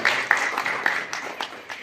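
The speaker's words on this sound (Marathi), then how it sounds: "ज्यांनी टाळ्या वाजवलं त्याचं अभिनंदन" Brief, scattered applause from an audience at a news channel's fourth anniversary event in Narsingpur, a few loose claps over a soft crowd murmur.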